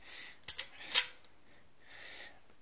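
The bolt of an ATA ALR rifle being worked in the action, giving sharp metallic clicks and short sliding rasps, close and fairly quiet with no talking.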